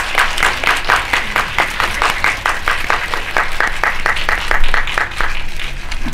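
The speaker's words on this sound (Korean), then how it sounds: "박수로 맞이해 주세요." Audience applause welcoming the actor and film director to the stage at a preview screening Q&A in a cinema, a steady, dense run of many hands clapping with rhythmic clapping emerging throughout.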